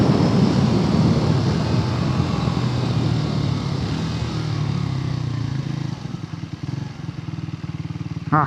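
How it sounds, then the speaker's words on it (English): A Triumph Tracker 400 motorcycle engine roars nearby, then drops through gears with revving blips as it downshifts and slows. "Just wanted you guys to hear that downshifting."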